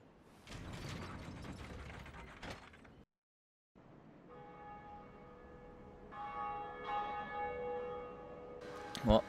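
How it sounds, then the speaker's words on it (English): Bell tolling atop the belltower in Dark Souls, with clanking gear-like mechanisms and sustained metallic ringing tones building over several seconds, ending in a sharp loud strike. "you ring the bell"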